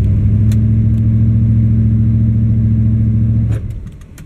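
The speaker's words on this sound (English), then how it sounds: "It stalls out right when you do the stall speed test." A car engine held at full throttle during a torque converter stall speed test gives a loud, steady low droning rev that holds for several seconds, then suddenly cuts out as the engine stalls, leaving faint clicks behind.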